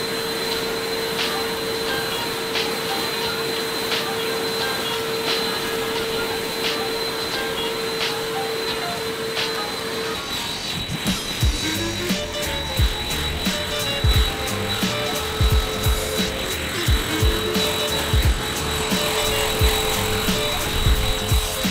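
An EGO dual battery backpack leaf blower runs with a steady high whine and airy roar, loud and close, its tone shifting and growing rougher partway through as the airflow changes.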